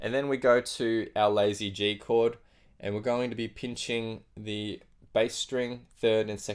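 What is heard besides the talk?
No everyday noises stand out.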